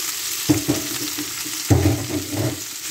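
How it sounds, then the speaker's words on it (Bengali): Boiled vegetables are tipped into a pan of fried garlic and ginger, two heavy thuds and scrapes over a steady, close sizzle. "এই যে সবজিগুলো আমি সেদ্ধ করে রেখেছিলাম সবগুলো আমি ঢেলে দিলাম"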